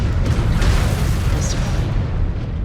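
Bomber attacks in MechWarrior 5: Clans send up heavy, continuous rumbling explosions, a loud low booming wash that rolls on for several seconds with no speech over it.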